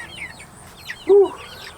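Chicken pullets give a single loud, close cluck while being carried from the coop out to grass, with faint chirps and rustling around it.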